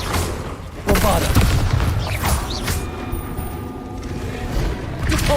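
Bombarda blasting spell going off in Hogwarts Legacy, a loud booming burst followed by rumbling crashes and debris, with mechanical game effects continuing underneath.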